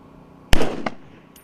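A single sharp gunshot crack from a machine gun at a military live fire exercise, loud and close, with a rolling echo tail and a fainter second report just after, alone without talk.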